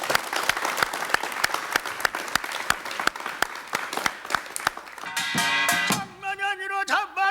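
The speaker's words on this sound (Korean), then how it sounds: "여러분 박수로 청해 주십시오." Studio audience at a 1987 Korean broadcast talk show claps steadily for about five seconds, dense and close, then the applause gives way to a Korean folk singer's voice beginning a traditional song.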